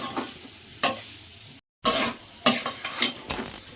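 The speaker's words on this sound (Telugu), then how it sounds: "పచ్చిమిర్చి కరివేపాకు అంతా వేగిపోయినంత వరకు మనం వేపుకోవాలి." Green chillies and curry leaves fry with chilli powder in a hot pan, sizzling steadily while a spoon scrapes and stirs in repeated close strokes, with one brief break of silence.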